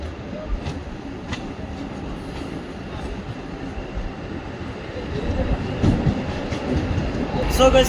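A DEMU train rolls into Alnavar Junction, a steady low rumble of wheels and engine filling the whole stretch and swelling louder toward the end as it nears the platform.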